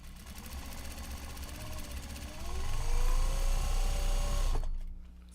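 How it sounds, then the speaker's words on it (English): A sewing machine back stitches the handles of a Japanese fabric bag with a steady, close whir. The whir rises in pitch and loudness midway, then stops abruptly near the end. "we are back stitching the handles here"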